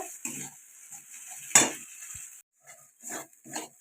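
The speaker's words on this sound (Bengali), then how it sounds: "এবার আমি এর মধ্যে দিয়ে দিচ্ছি বেটে রাখা পোস্ত। তো পোস্তটা দেওয়ার পর আবার কিছুক্ষণ নেড়ে নেব।" Ground poppy seed paste stirred into cooked spice masala for a potato and cauliflower roast, with intermittent scraping clinks of a spatula against the pan and soft sizzling between strokes.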